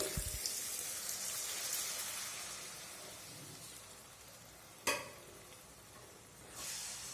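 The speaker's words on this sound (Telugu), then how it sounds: "దీంట్లోకి కొద్దిగా వాటర్ వేసుకుందామండి" Quiet frying sizzles in a pan, then a sudden sharp hiss bursts up as water hits the hot masala for egg curry, followed by stirring.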